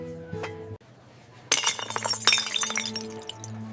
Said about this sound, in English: Broken glass can hurt people.